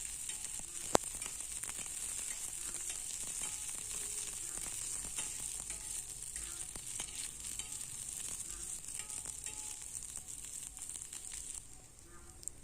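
Chopped onion, garlic, ginger and green chili fry in hot oil for a pumpkin leaf chutney, giving a steady, dense sizzle that holds evenly for the whole stretch with no talking.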